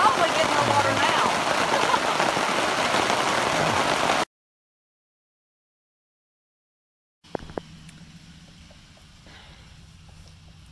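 Steady broadband rain hiss for about four seconds, then silence, then quieter outdoor ambience with a few light taps.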